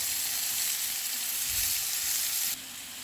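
Chicken tikka pieces sizzling loudly in a hot pan as they are turned, a dense, continuous frying hiss that drops in level near the end.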